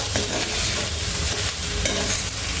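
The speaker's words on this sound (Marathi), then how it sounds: "तांदूळ सांगा भात शिजलेला भात जो आहे तो आपल्याला परतून घ्यायचा आहे" Cooked rice being stir-fried in a pan for lemon rice, a dense continuous sizzle with repeated scraping and tossing of the spatula, close and fairly loud, no talking.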